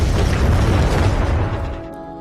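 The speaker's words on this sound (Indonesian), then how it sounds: "meluncurkan bom ke arah mobil pengangkut uang hingga terjadilah ledakan yang sangat dahsyat" A bomb launched at a cash transport vehicle detonates in a massive, deep rumbling boom that roars loudly with heavy low-end energy, then slowly decays into fading debris and echo.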